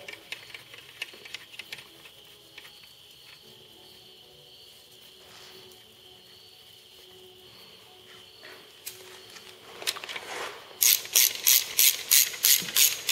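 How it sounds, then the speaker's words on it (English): A hand ratchet tightens the main cap bolts on a Crown Victoria engine's four-bolt main, starting with soft, sparse clicks and ending in loud, close, rapid bursts of pawl clicking in an even rhythm. "Tighten these bitches down."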